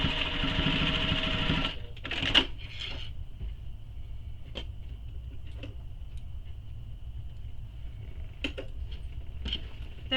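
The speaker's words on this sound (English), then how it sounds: "So I'm going to go ahead and stitch that down now." A sewing machine stitches down the pocket of a small messenger bag, a steady close whir for under two seconds, then stops, followed by a few faint clicks and handling taps in a quiet room.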